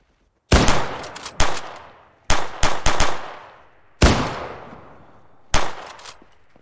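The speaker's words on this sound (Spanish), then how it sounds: "Voy a empezar a dar tiros de gracia." Gunfire in the military simulation game Arma 3: several sharp, loud shots and short bursts ring out at irregular intervals, each trailing off in a long echoing tail.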